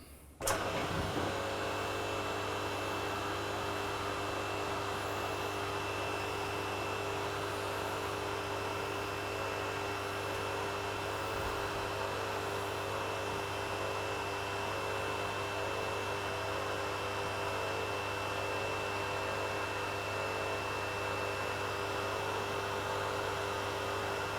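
A Holden mobile home car lift raises with a button press: a click, then a steady electric motor and hydraulic pump hum with a constant whine that runs evenly for over twenty seconds, with no speech.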